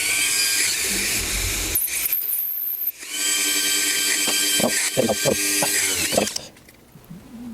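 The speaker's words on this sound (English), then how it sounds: "I've managed to drill right the way through." A power drill bores a hole in a loud whining, grinding run, stopping briefly and then starting again with several uneven, stuttering bursts before it winds down. There is no talking.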